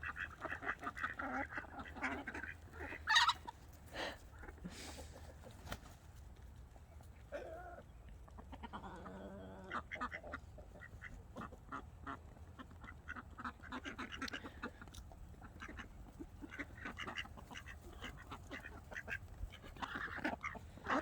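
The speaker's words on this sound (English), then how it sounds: "Goats and chickens eating food together, not a good combination" Free-ranging chickens and goats share a farm goat pen, with scattered bird calls, honks and clucks over a busy barnyard bed of rustling and feeding noise, fairly close and continuous.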